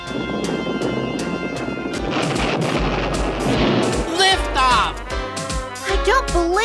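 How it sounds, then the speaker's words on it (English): A cartoon rocket lifts off in a 1984 animated series, a loud rumbling, crackling blast with rising whistling tones, followed by an excited voice. "Liftoff!"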